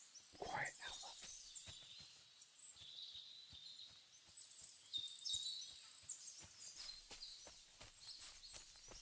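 Birds singing in the forest countryside of the game Kingdom Come: Deliverance 2: faint, high chirps and warbling trills float in the background, mixed with soft footstep thuds and rustling nearby.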